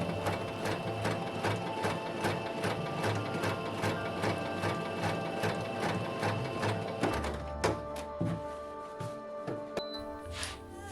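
A sewing machine stitches a rounded outer corner on a kimono, running in a steady rapid clatter that pauses briefly near the end before resuming in short bursts.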